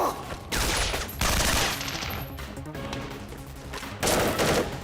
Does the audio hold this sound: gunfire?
yes